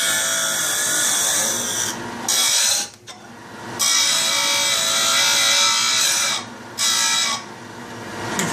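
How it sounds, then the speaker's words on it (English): A grinder bites into a titanium plate in long, harsh, abrasive stretches broken by brief pauses. It is loud and close, with no talking. "So this is what titanium does when you grind it."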